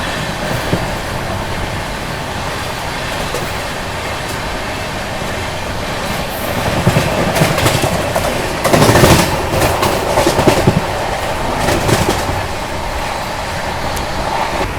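The 22222 CR Rajdhani Express runs at speed through Morena railway station, a loud continuous roar and rattling clatter of wheels on track that swells and surges midway, with no talking.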